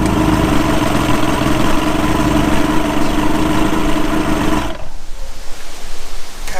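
A Mercury 150 hp inline six outboard on a Bayliner boat idles with a steady, loud, even rumble, then the engine note drops away into rougher, quieter sound near the end.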